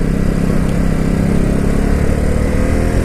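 A Ducati Supersport S motorcycle engine runs while riding, a loud steady low rumble with a dense throbbing drone held evenly throughout, close and without talk.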